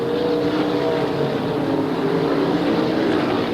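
Winged sprint car engines roar around Raven Raceway during a 1987 Tri-state Championship race, a dense, steady, loud mechanical drone that never lets up, with no voices over it.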